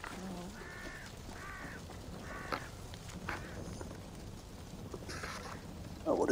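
A crow caws several times in short repeated calls over a quiet background, followed by a few scattered thuds and a brief noisy burst at the end, in a video game.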